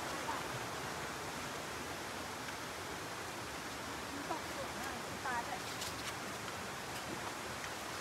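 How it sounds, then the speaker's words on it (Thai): A waterfall at a Thai riverside site in Kanchanaburi gives a constant, even rushing wash, fairly soft and steady throughout, with faint scattered sounds over it. "เรามาต้นน้ำตกด้านนี้แล้ว"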